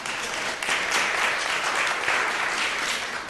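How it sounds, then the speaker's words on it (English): Applause at a county Board of Supervisors meeting, a steady patter of clapping from an indoor audience lasting a few seconds. "That deserves applause, ladies and gentlemen."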